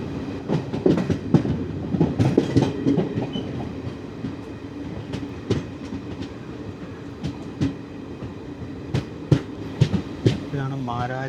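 The 12075 Jan Shatabdi Express, with ICF coaches, rolls into the loop line at Mararikulam station, giving a loud, close rhythmic clatter of wheels over points and rail joints and a brief squeal near the end, under occasional talk.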